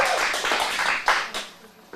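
Brief clapping from a small group of teens in an acting studio class, a scattered patter of hand claps over about two seconds with a couple of louder single claps near the end.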